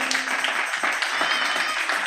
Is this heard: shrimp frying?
no